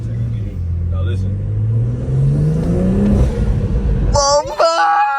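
BMW M340i revved hard in second gear, a loud rising engine drone climbing steadily in pitch with turbo whoosh and whine, then a sharp high whistle and flutter as the throttle lifts near the end.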